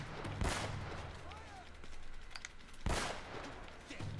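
Gunfire in Uncharted: Drake's Fortune, two sharp loud shots about two and a half seconds apart over a low background hum, with a few faint distant pops between them.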